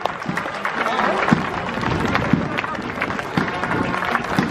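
A crowd applauds at an Uttar Pradesh Police DSP passing out parade on an open parade ground, with dense, continuous clapping and voices mixed into it.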